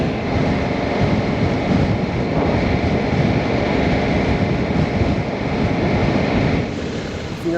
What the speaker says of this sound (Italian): il vento è ancora forte